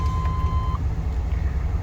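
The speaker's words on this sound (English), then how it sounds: "And now it's beeping at me again" A single steady electronic warning beep from a 1998 GMC with a failed alternator holds for under a second, then stops, over a low engine hum and road rumble.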